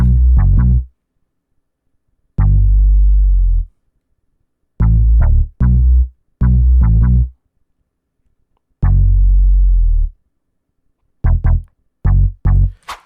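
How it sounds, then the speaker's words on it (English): Deep R&B synth bass notes play in short phrases separated by silences, each note with a heavy low tone and clean cutoff. "normally you get sort of a synth kind of bass"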